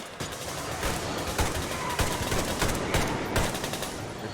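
Kalashnikov rifle gunfire in Metro Exodus, a dense stream of rapid shots with sharp cracks over a loud noisy background.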